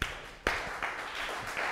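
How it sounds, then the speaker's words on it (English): An audience applauding at the close of a data innovation session, with a short burst of steady, moderately close clapping that swells in small waves over under two seconds. "Round of applause."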